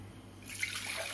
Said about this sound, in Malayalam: ഒരു ഗ്ലാസ് വെള്ളം ഒഴിച്ചു